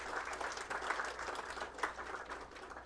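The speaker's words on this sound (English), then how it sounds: "we should really give a round of applause to all the OWL team" An audience at a research institute's foundation day and closing ceremony applauds the OWL team, a steady, fairly faint wash of many hands clapping throughout with no talk over it.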